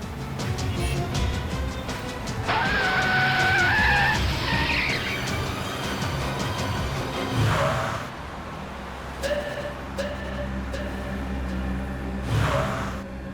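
Car tires squeal as a car skids and swerves on a road at night in a Hindi CID crime drama, with a rising screech over steady engine noise and a background score.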